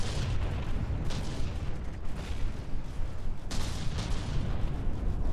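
Battleship cannons firing during a battleship tournament match in the From the Depths naval combat game, repeated heavy booms and blasts layered over a constant rumbling barrage, loud and busy.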